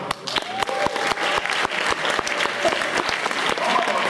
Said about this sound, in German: Ich glaube, das ist noch ein Applaus wert, oder?